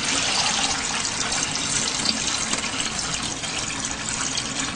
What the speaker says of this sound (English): You dump out the water very slow,